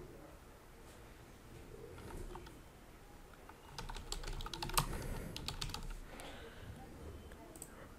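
Light typing on a computer keyboard while setting up a Discord welcome channel, soft scattered key clicks with a brief burst of quicker taps midway, faint and distant over low background hum.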